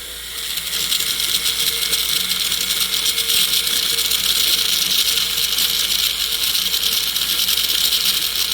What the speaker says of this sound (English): Let's go ahead and smooth this out with our silicone wheel a little bit